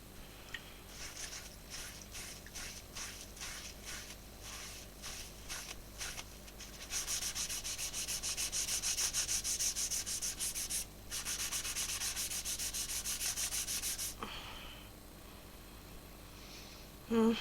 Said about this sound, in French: un truc électrique là pour poncer, une ponceuse électrique tout simplement